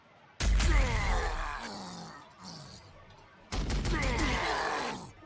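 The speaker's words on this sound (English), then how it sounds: "do damage to everybody with the battle cannon." Battle cannon fire from Warhammer 40,000: Sanctus Reach, an Astra Militarum game: two loud booming shots with rumbling, crackling tails, the first followed by a short quieter burst, the second about three seconds later.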